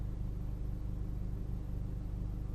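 Toyota Yaris iA with a 1.5-litre naturally aspirated engine and coilover suspension cruising at highway speed, a faint, steady low rumble of engine and tyre-on-road noise from inside the cabin.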